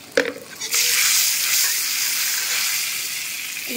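Lentils dropped into hot oil with turmeric and chilli powder burst into a loud, bright sizzle that holds steady and close while they are stirred.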